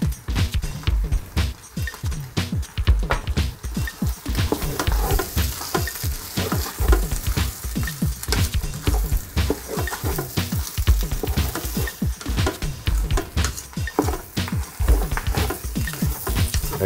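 Shrimp fried rice sizzling loudly in a hot pan, stirred with rapid, continuous scraping strokes of a utensil close up, a dense rhythmic clatter running without pause.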